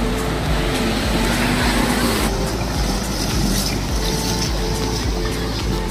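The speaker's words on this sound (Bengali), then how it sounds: "There he is riding the jet ski." A jet ski riding over sea waves off Goa, a loud close engine drone with rushing water and wind buffeting throughout, no clear talking.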